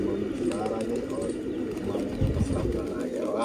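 Soft pigeon cooing runs low and steady through the whole stretch, with a bit of background murmur and rustling beneath it.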